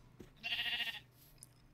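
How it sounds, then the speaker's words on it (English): A single sheep bleats in Minecraft SevTech Ages, one wavering bleat lasting about half a second, fairly close, over a faint low background hum with no talking. "there are lots and lots and lots of sheep"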